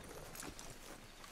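Horse hooves clip-clop at a steady walking pace in Red Dead Redemption 2, faint and brief over soft outdoor game ambience.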